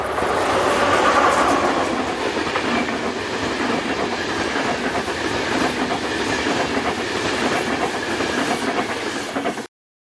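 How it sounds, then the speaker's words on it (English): A class 371 electric locomotive hauls the EuroCity EC171 from Berlin to Budapest past the Elbe sandstone mountains, giving a steady loud rumble and clatter of passing coaches and wheels that fades out abruptly at the end. "This is 371004 heading Eurocity train EC171 from Berlin to Budapest."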